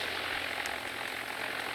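A steady droning video game airplane engine hum with a propeller-like buzz, constant and moderately loud, with no speech.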